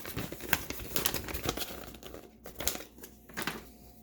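Paper fold-out insert from a March of the Machine Commander card game deck box being unfolded, with crinkly paper rustles and small crackles in irregular bursts, close and fairly quiet.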